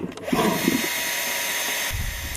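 Power drill whirring steadily as it bores into a rhino's horn outdoors, a continuous close buzzing that runs for about two seconds after a short start.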